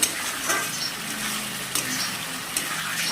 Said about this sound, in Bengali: দেখো আমার মশলা প্রায় দেখতেই পাচ্ছ কষানো হচ্ছে